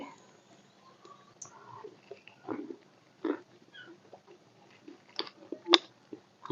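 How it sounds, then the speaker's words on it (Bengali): Crunchy bites and chewing on a crispy, sweet homemade fried snack, eaten hot; irregular close crunches and mouth clicks over roughly six seconds, with soft scattered sounds between bites. "আমি একটুখানি আপনাদেরকে টেস্ট করে দেখাচ্ছি।"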